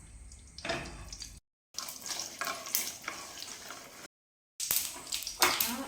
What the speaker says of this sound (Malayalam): ആ കടുക് പൊട്ടിക്കഴിയുമ്പോൾ